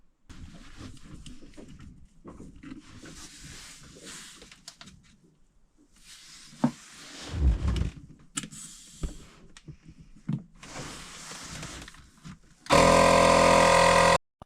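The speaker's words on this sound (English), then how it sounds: "I'm going to pump this up to 27 psi and see if that works" Several bursts from a small electric pump inflating a caravan water accumulator to 27 psi, each whirring run separated by pauses and clicks, ending with a loud steady hum.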